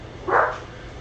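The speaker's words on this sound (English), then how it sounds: "There's tons of dogs on TV. He's barking." A dog on a television barks once, a single short, muffled bark heard indoors against a low, steady room hum.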